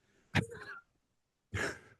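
Two short, breathy coughs close by, separated by a brief silence, with a soft trailing exhale after the first.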